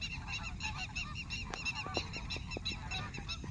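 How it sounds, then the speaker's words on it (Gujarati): A flock of geese and ducks honking repeatedly at a distance, overlapping calls over a soft outdoor background. "હંસ છે બતકું છે જો કેટલા પક્ષી છે"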